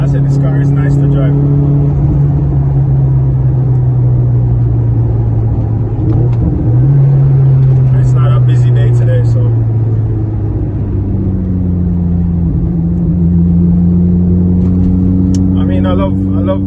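A 700+hp Mitsubishi Evo X heard from inside the cabin, its engine droning loudly and rising and falling in pitch through gear changes, with people talking over the steady rumble.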